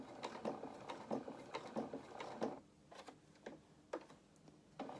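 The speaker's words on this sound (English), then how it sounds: "Machine's getting noisy, I don't know why, but going really slow" A domestic sewing machine stitching fabric slowly and running noisily with a tight thread, giving uneven bursts of rapid mechanical ticking separated by brief pauses, close and fairly quiet, without talking.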